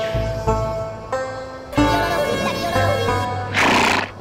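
Horse neighing in a movie scene, several loud whinnies in quick succession, each breaking off sharply, followed by a burst of noisy commotion.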